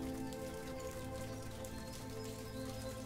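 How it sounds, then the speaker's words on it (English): Rain patters steadily on a camp pavilion, a soft, continuous drumming of drops heard close by with a low, even background. "A bit of a shame with the rain."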